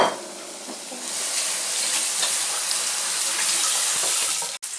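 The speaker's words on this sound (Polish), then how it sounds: "O, już pierwszy już się smaży." Cheese-filled food frying in butter in a pan gives a steady, close sizzle that swells after a quieter start and continues with light crackles, with no voices.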